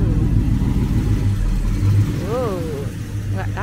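Car passing by at a market, its mid-pitched engine humming and briefly revving, moderately close under a busy outdoor background.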